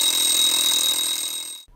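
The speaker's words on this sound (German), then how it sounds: "Am nächsten Morgen klingelt der Wecker ganz früh." An alarm clock rings early in the morning in a Playmobil family holiday film, a steady loud electronic ringing that holds for nearly two seconds before cutting off abruptly.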